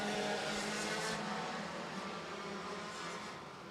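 4-cylinder race cars accelerate together off the start of a feature race at Beckley Motor Speedway, a dense, loud roar of many engines that fades slightly as the pack pulls away.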